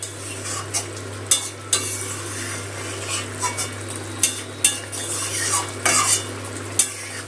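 Pointed gourd (potol) being stir-fried with spice paste in oil, a spoon scraping and clinking against the pan in irregular strokes over a low steady sizzle, close and moderately loud, with no talking.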